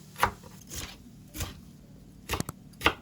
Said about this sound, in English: chop quarter of green paprika